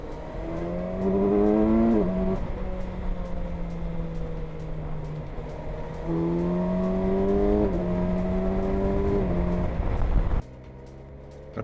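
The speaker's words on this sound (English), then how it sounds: "Just see how I pull from 40 to around 130 in 6th gear effortlessly." A motorcycle pulls in sixth gear from 40 to about 130, its engine note climbing smoothly in long rising sweeps, with a lull midway and faint ticking throughout, heard close as if from the rider's seat.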